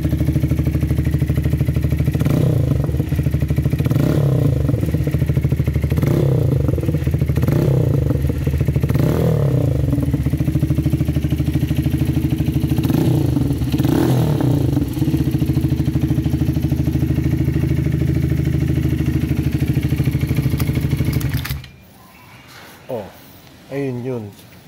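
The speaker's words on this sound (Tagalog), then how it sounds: "Medyo may lagatok ng makina lang." A motorcycle engine idles steadily and loudly up close, with a faint irregular knocking, then cuts off abruptly near the end, leaving brief clatter.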